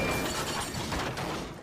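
A toy train in a Thomas and Friends scene crashes through the buffers into a canal, a dense, noisy smash of clattering and splintering that fills the short moment at steady loudness.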